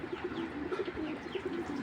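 A middle-line racing pigeon coos softly and steadily in a repeating low rhythm, close by, with no talk over it.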